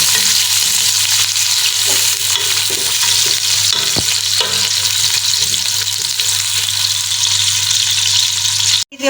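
Onions fry in cooking oil in a pan, producing a steady, loud sizzle that continues unbroken for several seconds with faint stirring scrapes underneath and no talking.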